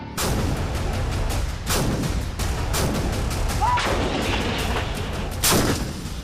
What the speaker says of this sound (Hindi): तोपों की इस गर्जना से भारतवासियों का विश्वास जगता है